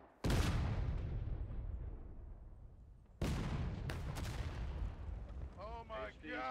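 Cannon fire in the Civil War game War of Rights, two loud booming artillery shots about three seconds apart, each rolling off into a long decaying rumble, with a voice briefly speaking at the end.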